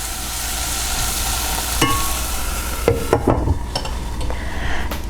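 Leeks soften in melted butter in a pot, giving a steady low sizzle with a few sharp clinks and scrapes of stirring near the middle and end.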